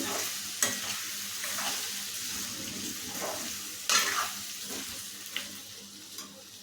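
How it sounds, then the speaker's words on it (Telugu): Potato curry fries in a pan, a continuous close sizzle broken by a few scraping stirs of the spoon against the pan bottom, with no one talking. "దగ్గరే ఉండి కలుపుతూ ఉండండి, ఎందుకంటే త్వరగా అంటుద్దండి ఇది."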